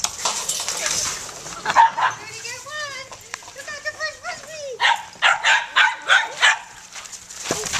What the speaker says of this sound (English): here is our Frisbee video of our puppies playing Frisbee